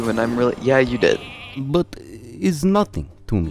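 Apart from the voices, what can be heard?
sheep bleat from Hearthstone video game, minion polymorphed into sheep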